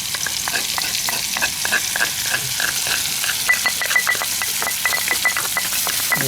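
Genjer vegetables frying in hot oil, a dense continuous sizzle punctuated by a fast series of crackles and pops, close and fairly loud.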